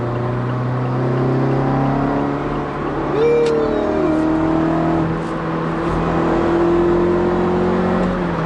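A car driving through busy morning traffic, with a steady engine and road hum inside the cabin and a brief rising whine midway, continuous and fairly loud with no talking.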